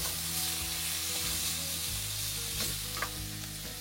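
Onions frying in very hot oil give a steady, loud, close sizzle with a broad hiss, joined by a few light stirring scrapes and a small clink near the end.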